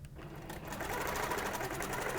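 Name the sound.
sewing machine stitching a quilt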